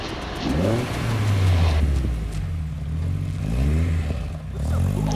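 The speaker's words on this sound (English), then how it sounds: "Last thing to do is take it for a test drive and make sure it was ready to go." A race car engine revs repeatedly with rising and falling pitch, loud and close, in several surging pulls of throttle with brief dips between them, running continuously throughout.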